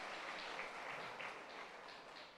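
A church congregation gives a round of applause for a man named Dudu, dense and continuous clapping at moderate volume across the whole span.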